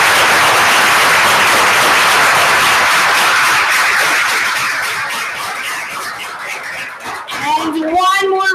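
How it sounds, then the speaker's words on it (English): Applause from a school board meeting audience for the district's principals, steady broadband clapping that fades over several seconds, with a voice rising near the end. "how about one round of applause for all our principals that came out"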